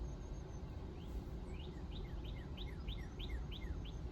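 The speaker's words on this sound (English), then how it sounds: "look at the birds chirping" Birds chirping outdoors, a run of short repeated high calls spaced about evenly over a steady background hiss, moderately distant and faint.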